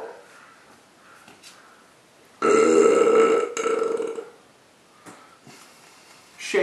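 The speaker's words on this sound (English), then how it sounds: "Rate that burp." A single loud, drawn-out burp lasting about two seconds, close and harsh, rising abruptly out of a quiet room and breaking off, followed by a few faint clicks and rustles.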